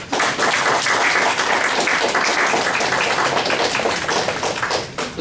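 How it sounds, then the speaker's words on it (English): Audience clapping fills a student entrepreneur society launch at a London campus, dense and loud throughout, a steady wash of many hands with no pause. "Your clapping will tell us."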